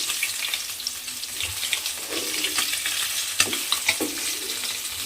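Fish pieces fry in hot oil in a pan, a continuous bright sizzle with occasional pops and stirring scrapes, close and steady throughout with no talking.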